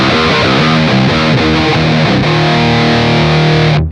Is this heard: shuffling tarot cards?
no